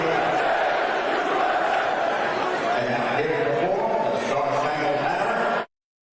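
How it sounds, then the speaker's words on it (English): A large crowd at a sports game attended by the US president chants and roars, a dense, loud, steady wall of voices that cuts off abruptly near the end. "You hear that crowd saying USA?"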